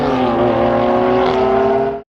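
Lamborghini Diablo V12 engine from the 1990s, running loud and close at sustained high revs with a steady harmonic drone that rises slightly in pitch before cutting off abruptly after about two seconds.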